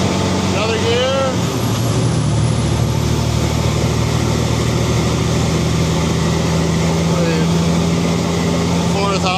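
Kenworth C500 truck engine working in the Alberta oil patch, a steady loud diesel drone with a noticeable dip and change in pitch near the start as it shifts gear, then continuing evenly; a voice talks briefly over it.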